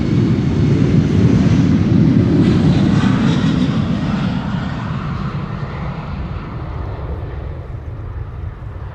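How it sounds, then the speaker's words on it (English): A KLM Embraer 190 jet bound for Zurich takes off at Amsterdam Schiphol, its engines roaring loud and broad at first, then slowly fading as it climbs away. "here the Embraer 190 to Zurich is taking off"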